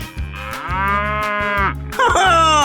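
A cartoon cow in a 3D animal sliding game gives a single drawn-out moo over a steady bouncy game music beat, followed by a brighter chime-like sound.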